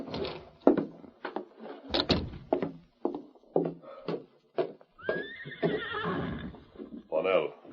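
Horse neighing as a radio drama sound effect, a loud close whinny rising near the end, while someone speaks over it with door and hoof-like knocks around.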